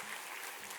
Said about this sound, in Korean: 우리 솔리스트하고 우리 모든 대원들에게 한번 힘찬 격려의 박수 해주시면 좋겠습니다.